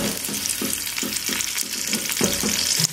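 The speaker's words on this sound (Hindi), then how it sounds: "प्याज को हम लाइट गोल्डन होने तक भून लेंगे।" Chopped large onion fries in ghee for chicken moti pulao, a continuous close sizzle broken by regular scraping stirs roughly every half second.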